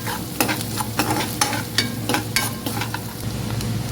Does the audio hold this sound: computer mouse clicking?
no